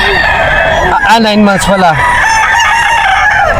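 A young Kelso stag around ten months old crows once at a Bocaue pet market, a loud stepped call rising and falling near the middle, with someone speaking briefly over the scene.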